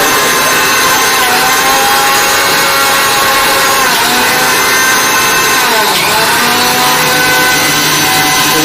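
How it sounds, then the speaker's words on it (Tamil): Prestige Iris 750W mixer grinder grinding old ration rice, a loud, steady, high-pitched motor whine and rattle filling the whole stretch with only slight dips in pitch. "இப்போ மிக்ஸி போட்டு ஜூம் பண்ணலாம்."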